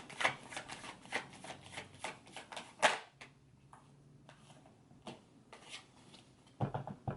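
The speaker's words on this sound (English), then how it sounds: "Let me pull some more cards." Tarot cards shuffled and drawn during a reading: a run of crisp riffling flicks and soft card slaps with brief quiet gaps, close and fairly faint, with no talking.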